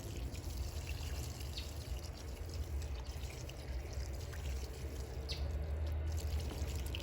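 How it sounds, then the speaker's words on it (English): Water poured steadily over container plants to soak the roots, a continuous soft trickling and splashing stream that holds through the whole stretch at moderate level, with no talking. "So when watering our plants, we have to ensure that the roots are thoroughly moistened"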